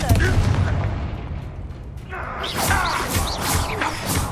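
Confringo blasting spell in Hogwarts Legacy: a heavy, booming explosion that rolls on loudly, then breaks into crackling, fiery bursts as it fades out.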